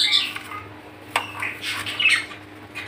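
Parakeet squawks in harsh, repeated bursts close by, over a steady low background hum, with a sharp click partway through.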